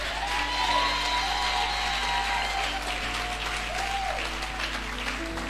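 A church congregation claps and cheers at a Sunday fasting and prayer programme. It is a steady, dense wash of applause with scattered whoops, filling the whole stretch without talk.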